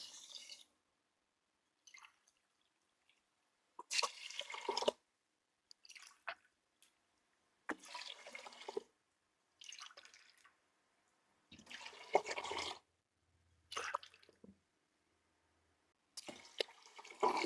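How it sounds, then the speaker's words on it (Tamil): Five tumblers of water are poured into a pot of rice and lentils for ven pongal, heard as separate short splashing pours with silent gaps between them, fairly quiet and close, with no voices. "அஞ்சு டம்ளர் தண்ணி நான் ஊற்றிருக்கேன்."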